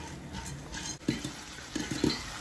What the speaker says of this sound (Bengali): এদিকে আমি একটু ভুট্টা ভাজতেছি ইয়ে দিয়ে, মধু দিয়ে